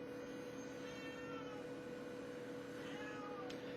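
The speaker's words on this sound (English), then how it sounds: "Oh, kitty cat really wants out." A house cat meowing to be let out, heard faintly over a steady, droning background hum indoors; the cries are soft and blend into the constant noise, with no talking.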